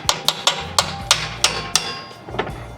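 A nut is tapped into a metal e-bike rack with about eight sharp, evenly spaced hammer strikes, close and ringing, then a final softer tap.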